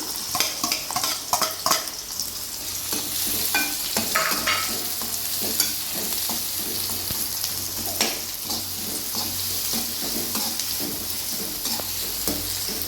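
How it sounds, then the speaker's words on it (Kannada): Onion added to hot oil for a gorikayi (cluster bean) palya, frying with a loud steady sizzle, frequent spatula scrapes and clinks against the pan, close up and with no speech. "ಎಣ್ಣೆ ಕಾದಿದೆ. ಈಗ ಈರುಳ್ಳಿ ಹಾಕ್ಕೊಳ್ತೀನಿ."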